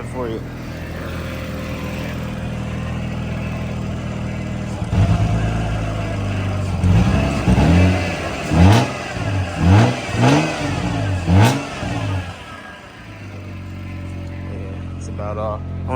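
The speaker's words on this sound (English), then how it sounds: "Give her a nice little rev for you." A Toyota MK3 Supra with its muffler cut off idles loudly, then revs hard in a quick series of sharp, close bursts before settling back to a rough, open-exhaust idle.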